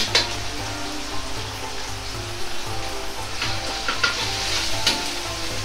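Doubanjiang and tianmianjiang fry in hot oil as they are stirred for a chicken and eggplant miso stir-fry, giving a steady close sizzle with occasional scraping strokes of the utensil in the pan.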